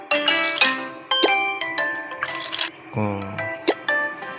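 Colour sort puzzle video game sound effects as colour is poured between bottles: a series of bright chiming, tinkling liquid-like tones, several short pitched bursts and one falling glide, loud and close with no talk.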